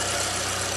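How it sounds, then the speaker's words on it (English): A car engine idles steadily after a coolant repair, a close, even, continuous hum with no other sounds. "But there we go, one nice running engine again."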